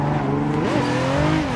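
A car in a drift simulator video game revs hard as it spins out, engine tone sweeping up and falling with a harmonic whine, mixed with tire squeal, loud and continuous with no talk.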